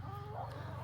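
Backyard hens making a low, continuous clucking murmur, close and soft, in a brief moment.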